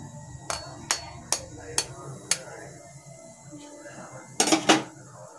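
An egg is tapped and cracked onto a roti in a pan: five sharp, evenly spaced knocks, a pause, then a quick double tap near the end, with faint voices low in the background.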